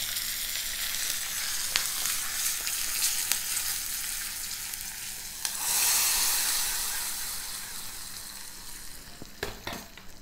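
Garlic and curry leaves sizzle in hot oil as a tempering for a ridge gourd, fenugreek and pepper kootu, giving a steady close frying hiss that swells briefly with a louder crackle midway, with no talking.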